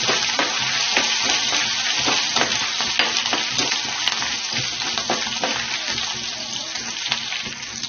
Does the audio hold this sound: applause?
no